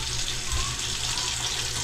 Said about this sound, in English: We'll put some more cold water in there.